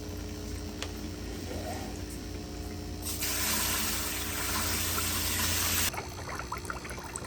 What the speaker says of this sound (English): I'm gonna fill it up with water